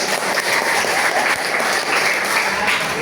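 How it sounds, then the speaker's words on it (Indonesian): A classroom of students claps for a classmate, a short burst of lively, close applause with voices chattering underneath. "tepuk tangan dulu buat kamu"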